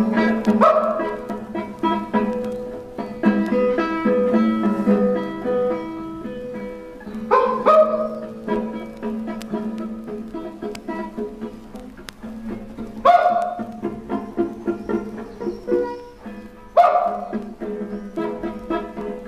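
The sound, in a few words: dogs barking in a music track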